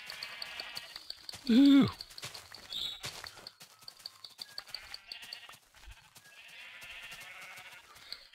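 A sheep gives one loud, close bleat, with further faint bleating from a flock in a grassy field and a brief exclamation from a nearby person.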